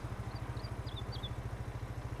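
A small Honda engine idles on a farm machine in Farming Simulator 22, giving a steady, rhythmic low chugging throughout, with a few faint high chirps above it and no talking.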